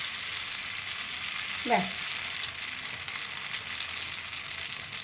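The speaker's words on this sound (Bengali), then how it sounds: "এবার আমি হাতায় করে এই ব্যাটারটা দিয়ে দিচ্ছি।" Batter sizzles and fries in a lightly oiled kadai on a gas stove, a steady soft hiss throughout, with a brief rising scrape as it is ladled in and a short word spoken near the end.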